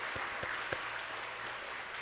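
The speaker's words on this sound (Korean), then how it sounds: "우리 격려와 축복의 박수 한번 하도록 하겠습니다" A church congregation at a Friday worship service applauds in a steady, diffuse wash of clapping heard from a distance, with a few sharper claps standing out.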